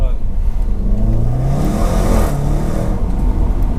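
Loud Range Rover SVR engine revving and climbing in pitch as it accelerates, heard from inside the car with voices talking over it.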